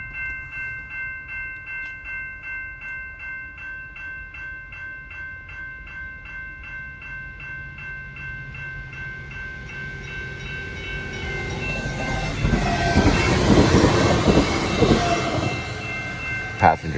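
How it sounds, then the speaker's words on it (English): Passenger train passes close by, its tonal horn or whistle lines ringing steadily while the rumble builds into a loud roaring rush of wheels and cars near the end. "Passenger train."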